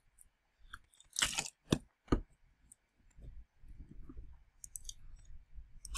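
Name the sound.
eating crisps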